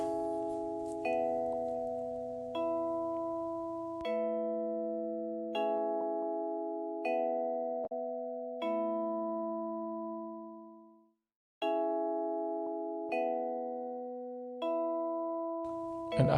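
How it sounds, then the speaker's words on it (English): Vibraphone phrase from a recorded album track, mellow struck bars ringing out one after another in a slow, relaxed pattern with long sustaining tails and a brief gap near the end, heard alone with no talking. "Let's listen to the vibraphone first."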